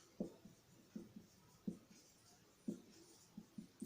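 Chalk or marker writing on a board during a Rajasthan history lecture, soft irregular taps and short scratchy strokes in quick clusters, faint and close with no speech.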